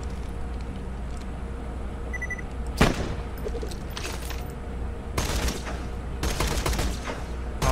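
Turret gunfire in the video game Borderlands 2, several sharp bursts of shots at moderate distance over steady game background noise, with no talk.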